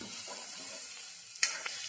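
Taro root pieces frying in oil with softened tomatoes in a pan, a steady close sizzle that is briefly stirred, with a sharp clink of a utensil near the end and no voices.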